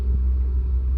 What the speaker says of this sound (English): Big truck going by.